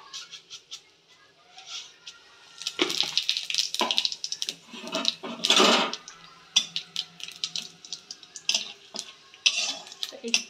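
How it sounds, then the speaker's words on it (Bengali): Whole garam masala, cardamom, dried red chilli and cumin seeds hit hot oil for tempering, giving bursts of crackling sizzle and spoon-against-pan scraping and stirring, loud and uneven, with quieter gaps between. "গোটা গরম মশলা, একটু এলাচ দিয়ে ফোড়ন দেব, শুকনো লঙ্কা দেব, আর হচ্ছে গোটা জিরে।"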